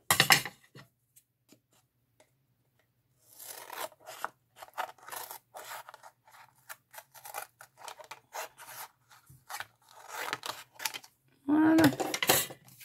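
A die-cutting machine cutting paper, with a few sharp clicks at the start and then a long run of rapid crisp scraping and crunching bursts, close and fairly loud, ending in a brief squeak.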